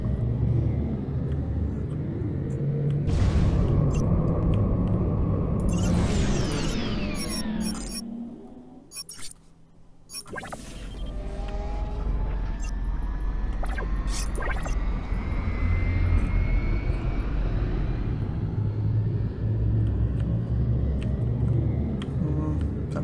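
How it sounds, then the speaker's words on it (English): Spaceship engines roar on overdrive in the video game Starpoint Gemini 2, a loud sustained rumble with rising whooshing sweeps, a brief dip to near quiet midway, then a steady heavy drone. "Setting course. Affirmative. Engines on overdrive."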